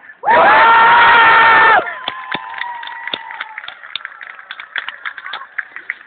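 A loud burst of crowd cheering and shouting at a fan convention greets a TV series producer coming on stage, then drops to scattered claps and calls from the audience.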